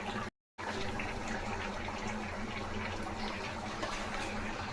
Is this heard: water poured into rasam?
yes